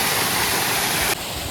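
Waterfall near Kutralam on the Kerala border, a loud, steady broadband rush of falling water that drops slightly in level near the end, with no voices.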